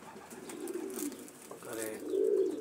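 Soft, low cooing of racing pigeons near Oradea, a few rolling coos in quick succession, close but quiet, with faint background noise.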